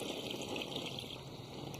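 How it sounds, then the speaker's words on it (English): Water being poured into a pan to cover a poaching liquid of wine and scraped vanilla bean, a steady close splashing pour that runs evenly throughout with no talk. "And water to cover."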